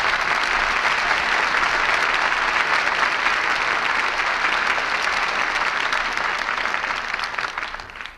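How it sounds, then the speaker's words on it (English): Dense, steady studio audience applause following the radio play Jezebel, loud and sustained throughout before tapering slightly at the end. "And we all join in applauding the artists who brought us this play tonight"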